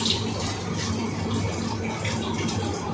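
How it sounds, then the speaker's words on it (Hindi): Half a cup of water poured into dal mash cooking in a pan, a continuous close splashing and trickling that holds steady for a few seconds. "इसके अंदर थोड़ा सा पानी ऐड करेंगे"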